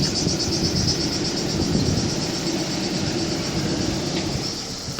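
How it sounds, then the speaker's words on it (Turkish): Cicadas chirp in a dense, continuous shrill buzz at a holiday site in Balıkesir, Turkey, steady and fairly loud over low outdoor rumble, with no talking. "Ne güzel bak, Ağustos böceklerinin sesini görüyor musun?"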